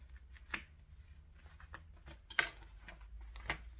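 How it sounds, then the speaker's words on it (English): Scissors trim embroidery jump-stitch threads and tails, making a few quiet, crisp snips spaced apart in a calm, close setting. "trim off the jump stitch and your tails on the back and put them all in the bin"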